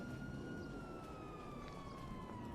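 Police sirens wail steadily in the GTA 5 Online video game, a continuous rising-and-falling tone held under a dense rumbling city background, moderately distant.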